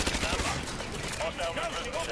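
Rapid bursts from a UMP submachine gun in Call of Duty: Modern Warfare 2 Campaign Remastered, crackling steadily throughout with a busy game soundscape underneath.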